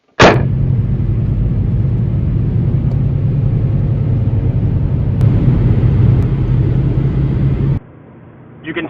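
A car on a test drive after repair of a P0030 oxygen sensor heater fault gives off a steady, loud low road rumble and engine drone heard from inside, which fades abruptly near the end.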